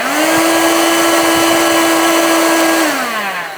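A Ryobi 18V ONE+ hand vacuum with a powered brush bar, fitted with a 2 amp hour battery, runs with a steady, loud motor whine that holds even and then winds down near the end.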